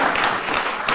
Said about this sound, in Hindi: इसलिए ताली बजाओ